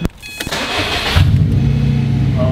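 A car engine catches with a sharp burst of ignition, then builds into a loud, sustained revving roar that holds steady and close for the remaining seconds, with no talk over it.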